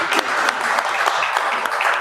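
A town hall audience applauds the candidates, a brief steady patter of many hands clapping at moderate loudness.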